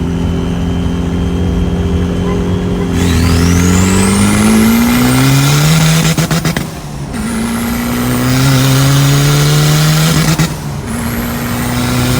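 A loud car engine that is running too hot revs up and down in long rising and falling sweeps, with brief dropouts between pushes, close by and steady.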